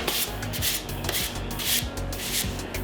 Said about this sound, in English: so we're gonna sand it down for one more final time